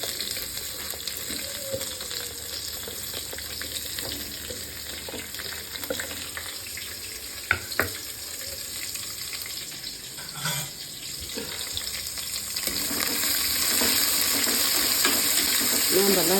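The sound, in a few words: chopped onions frying in oil and ghee for biryani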